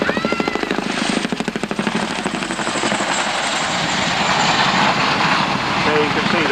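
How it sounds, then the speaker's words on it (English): Chinook twin-rotor heavy helicopter at an aviation display, its heavy rotor blades beating in a steady, loud, close chop that fills the scene, with a voice talking over it. "the first pair of the Chinooks following them, I think, quite an impression from the heavy rotor blades of this magnificent helicopter"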